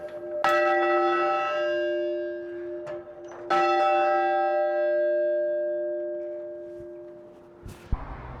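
A large church tower bell rings out twice, each deep stroke leaving a long shimmering hum that slowly fades, followed by a faint clunk near the end.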